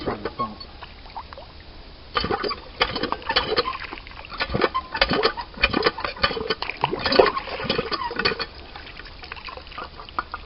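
A water pump starts up and splashes water out in irregular, rhythmic gushes after a quieter opening, close by and moderately loud.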